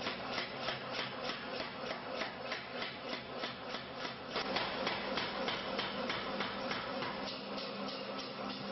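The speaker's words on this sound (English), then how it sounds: "we are greatly helped by a compressed air hammer, an invaluable aid in the rough hammering work" Rapid, steady mechanical hammering blows repeating evenly, a compressed air power hammer rough-forging a sword blade at a constant rhythm with a continuous rasping undertone.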